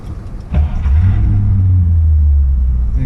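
A 1947 Cadillac Club Coupe Series 62 fastback cranks briefly and then its engine catches and settles into a loud, steady, deep idle rumble heard close by.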